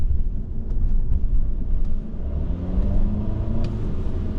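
A 2023 Alfa Romeo Giulia TI with a 2-liter four-cylinder engine producing 280 horsepower cruises along, a steady low rumble of engine and road noise from inside the cabin.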